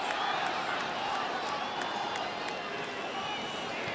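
A stadium crowd cheers at a football match in Baltimore, a dense, loud, steady roar that carries without a break from start to finish.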